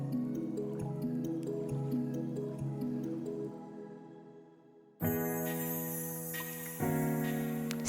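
Thickened soap batter pours into a mould with soft, wet glopping and dripping sounds over a faint tonal background, and a sharper splat of batter lands near the end.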